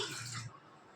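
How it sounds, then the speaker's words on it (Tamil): A tumbler of water is poured into a mixture while cooking, making a short, close splashing pour that lasts about half a second before it stops, leaving near silence. "இதில் ஒரு டம்ளர் தண்ணி ஊற்றி மிக்ஸ் பண்ண போகிறேன்."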